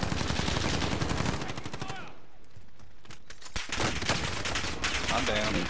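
Gunfire in a shooter video game, a squad battle royale match with enemies firing from a hill, dense rapid shots dominating the opening and returning in bursts near the end, with the players' voices talking over it.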